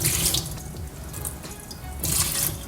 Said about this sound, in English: you guys want to fill all of these with water right here.